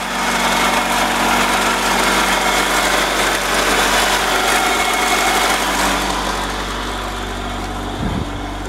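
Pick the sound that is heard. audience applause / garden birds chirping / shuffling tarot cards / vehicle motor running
vehicle motor running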